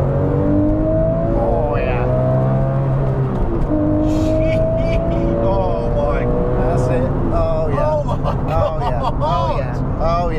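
A Porsche 996 GT3 engine revs hard and climbs through the gears, loud and close, with a voice talking over the roaring, rising pitch.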